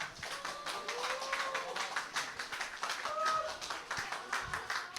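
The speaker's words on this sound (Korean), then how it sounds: "큰 박수 부탁드립니다" Audience applause at a political talk concert in Mokpo: a continuous patter of many hands clapping at moderate distance, with a few faint vocal whoops or whistles over it.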